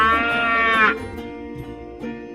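A cow moos loudly and close by in one long drawn-out call, followed by quieter farmyard noise with faint fainter calls.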